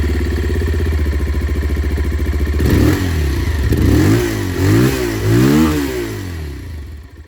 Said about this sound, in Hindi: जो एग्जॉस्ट साउंड है वो भी मैं आप लोग को यहाँ पर एक बार सुना देता हूँ।